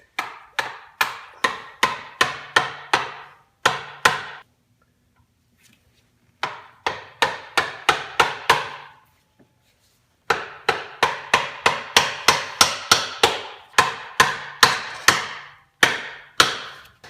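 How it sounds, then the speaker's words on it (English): A hammer drives a punch to knock out spacer washers from the bushings of a 1999-2004 Ford Mustang SVT Cobra IRS rear differential, giving sharp metallic strikes in quick rhythmic bursts separated by short pauses. "Put a punch in here and push out the little washers that are kind of spacers on these bushings."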